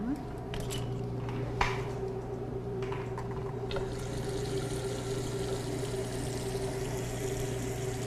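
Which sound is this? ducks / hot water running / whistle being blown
hot water running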